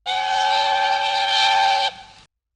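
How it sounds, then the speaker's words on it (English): A single long, loud steam whistle blows steadily for about two seconds, then cuts off. "Presently he heard a whistle."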